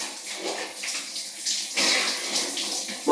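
Shower water runs steadily in a continuous hiss and patter, swelling louder partway through as the stream shifts, with no voices over it.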